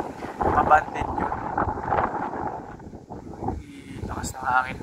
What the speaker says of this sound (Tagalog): Lakas ng hangin ka, lakas mga puso.